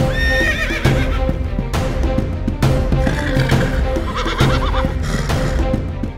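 Horses neigh and whinny loudly amid hoof clip-clop during a pasola javelin game on horseback, with repeated calls over steady galloping noise and no talk.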